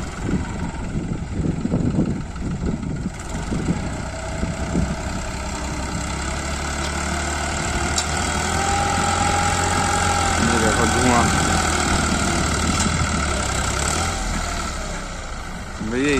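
A New Holland 5500 55 hp tractor with a smoky exhaust runs steadily while ploughing wet soil with a blade plough, its low engine drone continuous and close, with a voice talking over it.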